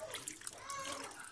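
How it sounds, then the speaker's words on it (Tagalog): Water pours and splashes into a cooking pot of pork ribs being readied for boiling, a faint, short, continuous gurgling trickle close by. "Magdagdag tayo ng tubig"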